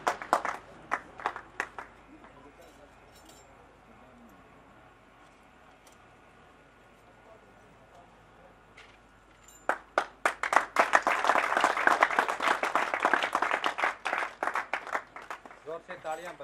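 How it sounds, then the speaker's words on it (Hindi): At an anniversary ceremony, a few scattered claps are followed by a quiet stretch, then an audience bursts into loud, sustained applause as candidates are called up, with a voice speaking over it. "जोर से तालियां बजाते रहे दोस्तों"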